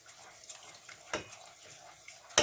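Milk being stirred into a white pasta sauce in a pan, soft scraping and gentle sizzling with a couple of sharper utensil knocks against the pan, quiet and close.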